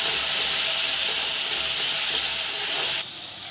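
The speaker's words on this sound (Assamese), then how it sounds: "এতিয়া মই এইখিনি ভালকৈ লৰাই দিম।" Spices sizzle in hot oil in a pan while Maggi noodles are being prepared, a loud, steady frying hiss that holds throughout and softens slightly near the end.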